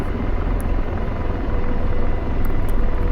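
A simulated AH-64 Apache helicopter in DCS powering up, a loud, dense, steady rotor and turbine roar filling the whole stretch with a slight swell near the end, a few faint clicks on top.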